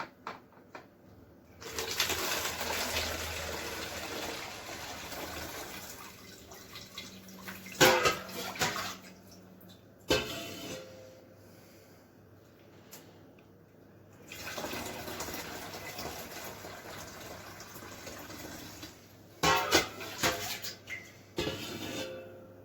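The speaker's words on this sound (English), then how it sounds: "fill up your basic 2-litre pop bottle" Homemade ginger beer with raisins pours into a 2-litre plastic pop bottle in South Africa, a rushing, gurgling liquid stream heard in several separate bursts with quiet pauses between them, fairly close and with no talking.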